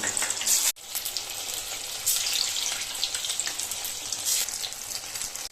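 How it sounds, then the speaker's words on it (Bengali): Pieces of flour gluten are dropped into hot oil for a vegetarian fritter and fry with a loud, continuous crackling sizzle. A brief drop-out comes early, then the hiss carries on steadily. "গ্লুটিনগুলো টুকরো টুকরো করে রেখেছিলাম সেগুলোই তেলের মধ্যে দিয়ে দেব"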